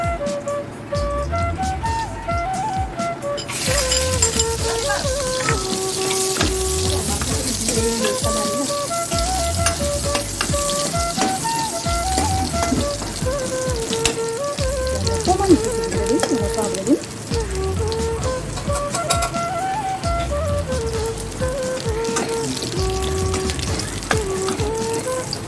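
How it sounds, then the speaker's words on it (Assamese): Garlic and onion sizzle and crackle in hot oil in a village-style home kitchen, a bright, steady frying hiss under background music with tonal melodic lines. "এতিয়া নহৰু আৰু পিঁয়াজ আমি তেল মাৰিম"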